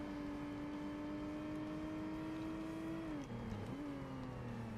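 Racing car engine in Forza Motorsport droning steadily with a deep bassy tone, holding pitch and then dropping briefly as it shifts before settling back into the hum; quiet overall and no talking.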